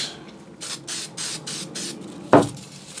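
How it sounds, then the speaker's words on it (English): Several short hissing bursts from an aerosol can of spray adhesive spray in quick succession, close up, followed by a sharp clunk. "So just a little bit of spray"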